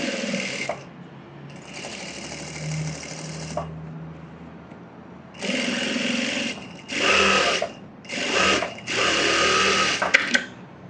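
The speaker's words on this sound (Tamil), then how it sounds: "ஓரத்தில் ஒரு எஜ்ஜு தையல் போட்டுக்கலாம்" A sewing machine edge stitching a blouse runs in several short bursts separated by brief pauses, close and steady, with no talking.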